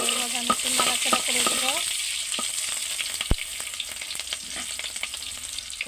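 Chili and spice paste with green chilies frying in oil in a pan for a fish curry with radish and potato, a steady broad sizzle with several sharp clinks and scrapes of stirring early on, no voices.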